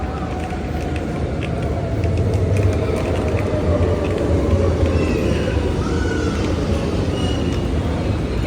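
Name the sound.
metro train arriving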